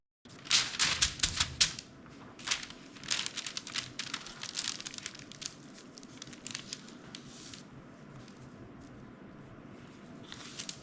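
Crinkling, rustling paper wrapped twice around a waxed tube during an RC plane build, with a cluster of sharp crackles early on that settle into softer intermittent rustles, close and moderately loud.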